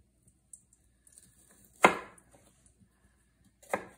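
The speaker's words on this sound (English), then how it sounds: "and just chop those up" A couple of small onions chopped with a knife on a cutting board for risotto, heard as two sharp, close chopping strikes about two seconds apart, with a faint tap early on and quiet kitchen background.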